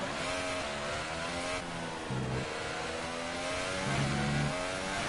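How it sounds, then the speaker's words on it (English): An F1 car engine in F1 2018 screams at high revs throughout, a loud, continuous whine that shifts pitch with gear changes and acceleration. "Turning up the engine."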